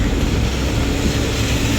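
A loud LRT light rail train rolls past nearby, a dense continuous rumble and rush of wheels on rails with no voices.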